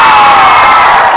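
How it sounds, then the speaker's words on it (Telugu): A school audience at a televised game-show event erupts in a brief, loud burst of cheering and shouting for the winning team, the crowd noise filling the whole moment without any separate voice. "గట్టిగా క్లాప్స్ అందరూ ఒకసారి"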